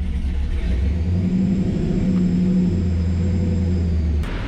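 A Porsche 944 engine run by a Holley Terminator X, tried on a hot start, produces a loud, steady low rumble and drone that cuts off abruptly near the end.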